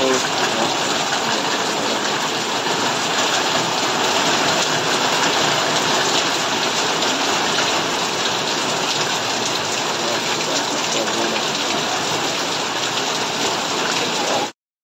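Heavy rain pours down in a steady, dense roar that holds at an even loudness throughout, close and unbroken, with no voices.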